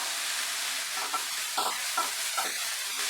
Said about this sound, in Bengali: মিডিয়াম থেকে একটু হাই এর দিকে রেখে আমরা বাঁধাকপিটাকে ফ্রাই করতে থাকবো।